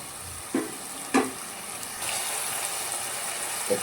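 Tomato gojju ingredients fry in hot oil with a steady sizzle, broken by a few sharp stirring scrapes and clanks from the pan.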